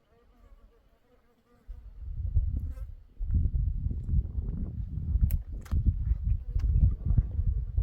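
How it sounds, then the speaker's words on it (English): Steady insect buzzing close by, a dense low drone of native bees and hoverflies feeding on Baccharis flowers, swelling after a quiet start and continuing with small fluctuations. "some of the native bees and hoverflies over here enjoying this Baccharis."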